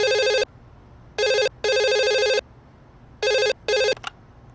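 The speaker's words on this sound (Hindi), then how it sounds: "फोन उठा।" A telephone rings in a hotel setting with an electronic trilling bell, sounding in four loud bursts separated by short pauses, heard alone with no talking.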